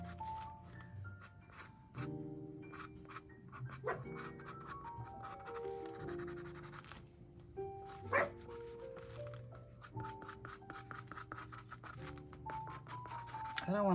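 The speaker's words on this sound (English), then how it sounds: "I don't know what he's barking about over there." A dog barking some distance off in the background, scattered short barks spread across the stretch, faint under a quiet indoor room with someone talking and gentle rubbing and drawing sounds.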